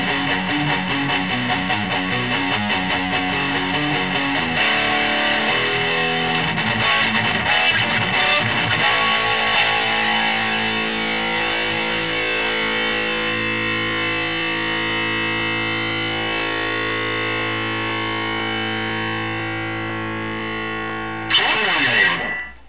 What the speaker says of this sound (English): Yep, so it definitely does the grit distortion.